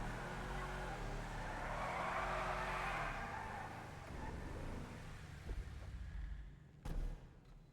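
The Buffalo car in a video game revs its engine, a rough sustained roar that swells and then eases, with a sharp tire-squeal-like burst near the end, fairly faint overall.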